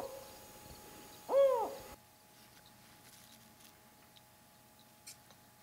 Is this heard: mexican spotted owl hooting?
yes